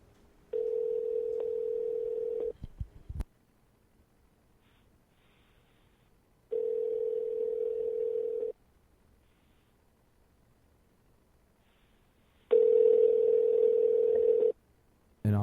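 A telephone call rings out as a steady electronic tone pulses three times, each about two seconds long, separated by long silent gaps, clear and alone with no talk.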